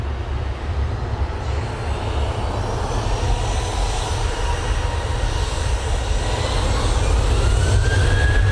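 A Ryanair jet roars steadily at Manchester Airport, its broadband engine noise building slightly and holding loud throughout, with a rising whine near the end.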